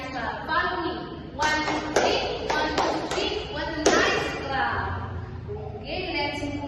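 Mathematics class of students clapping together in a counted rhythm, several sharp grouped claps in short bursts, with a teacher and children talking between them.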